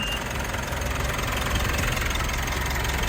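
A second-hand Mitsubishi Montero Sport engine runs at a steady idle, a continuous mid-to-low rumble close by with no talking over it.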